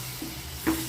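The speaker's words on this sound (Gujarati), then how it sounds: "હવે આપણે આને મિક્સ કરી લઈએ." A paneer dish frying in a pan is stirred, giving a steady sizzle with a couple of soft scraping knocks.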